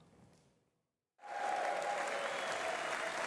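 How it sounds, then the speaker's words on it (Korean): A standing ovation in the US Congress bursts out after a brief silence, a dense, loud wall of applause from a large chamber crowd that holds steady to the end. "미 의회에선 윤석열 대통령이 유창한 영어로 연설을 시작하자 기립박수가 쏟아집니다"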